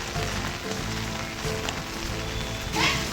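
Rain falls steadily on a surface outdoors during a monsoon downpour, a continuous pattering wash with faint background sounds mixed in and a brief louder splash near the end.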